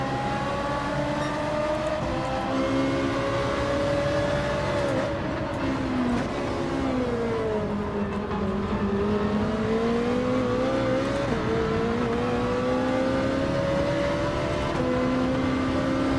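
Ferrari race car in Gran Turismo 7 on a Bahamas circuit, its engine revving steadily and loudly throughout, pitch rising and dipping through gear changes with a continuous harmonic whine and no talk.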